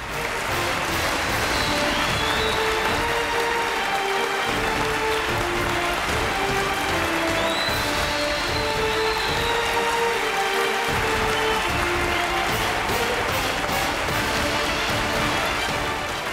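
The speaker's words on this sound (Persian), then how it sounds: "همه تو تشویق هم به افتخار اشتراک‌کننده های عزیز ما." An audience in a hall applauds to welcome the participants, producing sustained, dense clapping at an even loudness with brief dips. A soft tonal melody runs faintly underneath.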